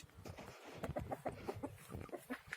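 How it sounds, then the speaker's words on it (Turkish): A rooster in a chicken coop with young chicks gives a quiet calling sequence of short, rapid clucks in an uneven rhythm, faint and fairly close. "Ay, horoz çağırıyor."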